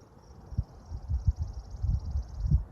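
A continuous high cricket trill runs in the background while low thumps and handling noises sound up close.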